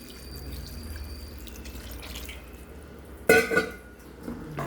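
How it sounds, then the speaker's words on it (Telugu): Water is poured into a pot of chicken gravy, a sudden close splash and gurgle rising out of quiet kitchen background for about a second before fading. "చూడండి, వాటర్ పోస్తున్నాను."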